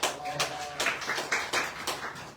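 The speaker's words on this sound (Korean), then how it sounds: "박수로 모시겠습니다" Scattered hand claps from an audience welcome a speaker to a Seoul press event, sounding as a few distinct, roughly evenly spaced bursts rather than a dense wave.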